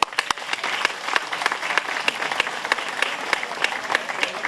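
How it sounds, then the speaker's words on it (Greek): An audience at an award ceremony in Elafotopos, Greece, applauds with dense, continuous clapping of many hands, steady and fairly close, with no speech over it. "Παρακαλώ να το χειροκροτήσουμε."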